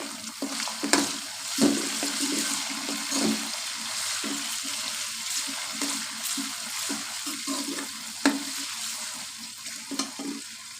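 Chopped tomatoes sizzle softly in a pan as a spoon stirs and scrapes them with scattered knocks. The cooking sounds are fairly quiet and close, with no talking.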